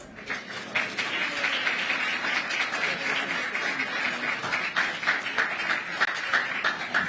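Audience at a public event applauding the Secretary of Labor's introduction, dense steady clapping with scattered cheers throughout.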